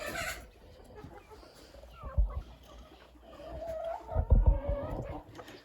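Backyard chickens cluck softly and intermittently around a small farmstead, close and fairly quiet, with a couple of low thumps and rustles.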